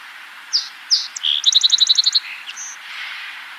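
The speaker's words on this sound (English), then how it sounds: "here's the complex but beautiful song of the song sparrow" A song sparrow's complex song: a few separate introductory notes, then a rapid trill of repeated notes and a buzzy ending, clear and close.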